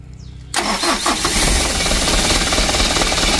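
Mitsubishi Canter truck engine cranking on the starter and catching, a sudden loud mechanical roar after a quiet moment, then settling into a rough, steady idle close by.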